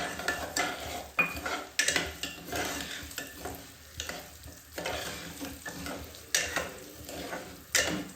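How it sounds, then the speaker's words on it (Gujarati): One bowl of cracked wheat sizzles softly in hot ghee while a spoon scrapes and stirs through it in irregular strokes, with occasional metallic clinks against the pan. "ફાડાનો કલર બદલાય ને ત્યાં સુધી આપણે તેને આમાં સાંતળવાના છે."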